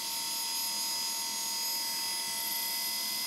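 A Mitsuba electric motor drawing 1.1 amps at 48 volts runs with a steady high-pitched whine and constant hum, unchanging throughout with no voices.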